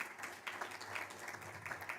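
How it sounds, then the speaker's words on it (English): A fairly faint, distant round of applause welcomes a speaker at a Ring the Bell for Gender Equality event, steady clapping from an audience with a few louder patches. "A round of applause."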